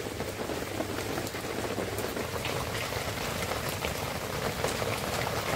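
Boiled keora fruit being poured into a wide bowl in a Sundarbans village kitchen: a steady, close, wet rushing splash that lasts throughout, with no voices.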